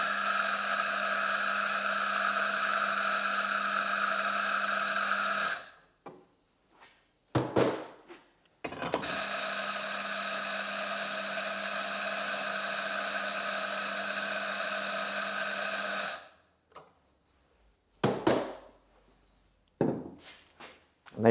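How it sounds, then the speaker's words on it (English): A Mahlkönig E65S coffee grinder grinding a shot or two of coffee beans during cleaning: two sustained steady motor whines, each several seconds long, separated by short clicks and knocks. "Now we're going to put through 1 or 2 shots of coffee to just clear out the last of those grinds."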